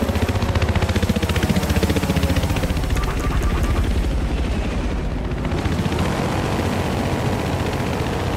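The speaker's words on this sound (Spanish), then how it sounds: "¡Tienen un helicóptero de asalto!" Assault helicopter in the video game Battlefield Hardline, a loud, continuous rotor thrum filling the clip with dense low-end chop, mixed with gunfire-like bursts and battle noise throughout.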